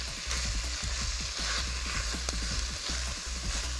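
Spinach and artichokes with garlic fry in a hot pan, giving a steady, loud, close sizzle with scattered crackles and pops throughout, and no voices over it.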